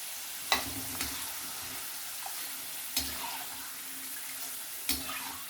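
Batch of crispy corn deep-frying in oil makes a soft, steady sizzle broken by a few sharp metallic clinks of a utensil at intervals, close by with no talking.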